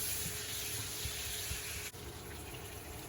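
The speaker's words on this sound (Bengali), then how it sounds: "টুকরো করে আলু কেটে নিয়েছিলাম, এবারে তেলের মধ্যে ভেজে নিচ্ছি।" Pieces of potato dusted with turmeric fry in hot oil for a mutton curry, giving a steady, dense, close sizzling hiss that runs without a break and without any voices.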